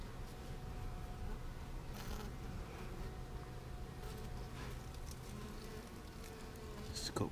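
Honey bees hum in a steady, dense drone around an open comb honey hive, close and continuous, with faint handling rustles and taps over it.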